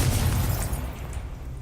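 A Confringo fire spell in Hogwarts Legacy detonates in a deep, booming blast that rolls and fades over a second or so.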